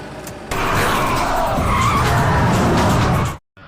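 A car's tires skid and squeal loudly as it speeds off fleeing zombies, a sustained screech lasting about three seconds before cutting out abruptly.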